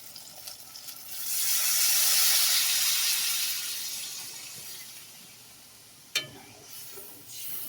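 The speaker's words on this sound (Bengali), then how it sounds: "মশলাটা কষানো হয়ে গেছে, এবার জল দিয়ে দিচ্ছি।" Water poured into fried, reduced spice paste in a pan for a fish curry bursts into a loud hissing sizzle that slowly fades, followed by a sharp clink and light stirring.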